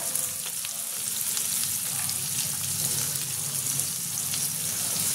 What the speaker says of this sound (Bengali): দেখো পেঁয়াজটা আমি দিয়ে দিলাম, কুচানো পেঁয়াজটা।